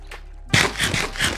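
Steady rushing of flowing water from an infinite water source in a survival crafting game, a broadband wash that starts abruptly and keeps pulsing softly, close and moderately loud, with no talk.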